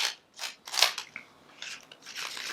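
Tarot cards being shuffled by hand, giving a run of crisp papery riffles and soft snapping bursts, close and moderately loud with no talking.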